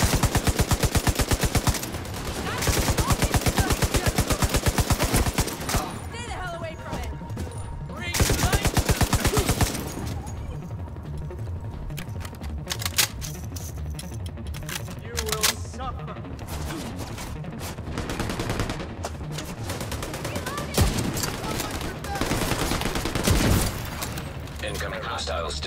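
Sustained bursts of automatic gunfire from Tom Clancy's The Division 2 play loud and dense for the whole stretch, with rapid shots stacking into heavy volleys that ease briefly and then return.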